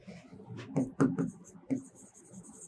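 Chalk or marker scratching and tapping on a classroom board in short strokes, mixed in with a teacher's speech.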